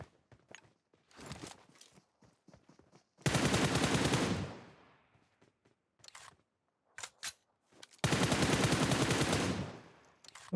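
Gunfire in PUBG Mobile, with two long, loud bursts of rapid automatic shots, each lasting about two seconds. Scattered shorter shots and clicks fall between the bursts.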